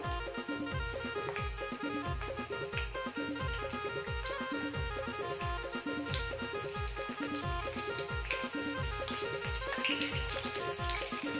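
Curry leaves sizzle in hot oil for a fish curry, a dense continuous crackling fry heard up close and fairly loud, with no talking.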